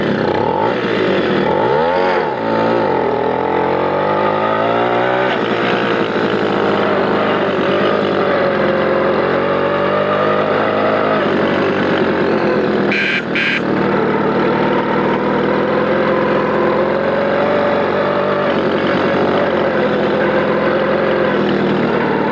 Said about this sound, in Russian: Заводится MP046 очень легко, с первого прокрута педали.